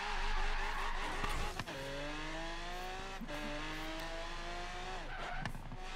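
A 1972 Mercedes 300 SEL 6.3 in Forza Horizon 3 holds a steady, loud engine drone that rises and falls with gear changes, while its tires squeal sharply through several skids across the run.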